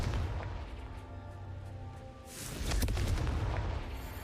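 Fiery explosions from the Confringo spell in Hogwarts Legacy: a rumbling blast early on, then after a brief lull a louder, sharper burst of cracking detonations that tails off into a lingering crackle.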